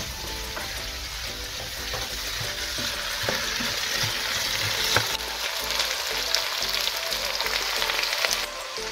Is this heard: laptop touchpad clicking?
no